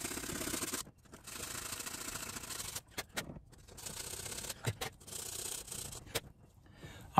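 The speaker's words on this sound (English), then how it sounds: "I'm gonna use this cardboard to burnish the prongs on this fuse." Cardboard rubbed against the metal prongs of a fuse from a distribution panel, a close dry scraping in short bursts broken by brief pauses and small clicks.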